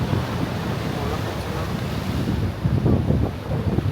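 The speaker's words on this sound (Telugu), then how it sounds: "ఇక్కడ అలలు బాగా వస్తున్నాయండి" Ocean waves surging on a Mumbai beach, a constant washing roar mixed with gusty wind buffeting the microphone, the surf swelling louder toward the end.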